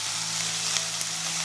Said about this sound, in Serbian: Na zagrejanu mast dodajemo ostatak luka i belog luka i sve ću to promešati i pržiti dok luk ne omekša.